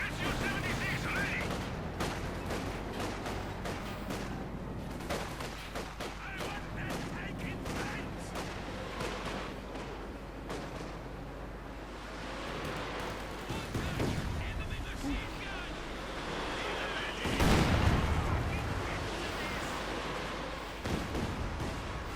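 Artillery barrages and gunfire from a Company of Heroes 2 battle between Wehrmacht and Soviet forces, with T-34 tanks involved; dense overlapping shots and booms run throughout, with a heavier blast burst near the middle and a voice commentating over the top.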